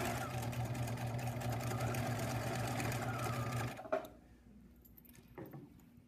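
A sewing machine stitching a quarter-inch seam along a fabric edge with the presser foot as a guide: a steady, rapid mechanical whir for several seconds that stops abruptly, followed by a couple of faint clicks and handling sounds.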